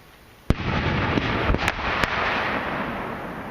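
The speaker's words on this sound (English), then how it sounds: "Yeah, that was a true flower pot." A flower pot firework shell fired from a mortar gun at a live-fire pyrotechnics course, giving one sharp launch bang followed by a dense, crackling roar with a few extra pops, heard alone at moderate distance.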